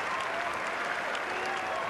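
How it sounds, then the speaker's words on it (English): Sustained applause from a tennis crowd giving Tim Henman a standing ovation at the Paris Masters 2003, a dense and steady roar of clapping filling the arena at even loudness throughout. "a standing ovation from those fans in the crowd who came to see him through"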